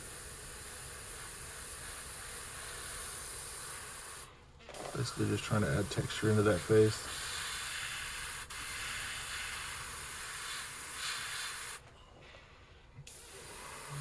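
An airbrush lightly sprays paint through a stencil laid over a small crappie fishing lure, a soft steady hiss with a burst of sharper spray pulses in the middle, while someone talks over it.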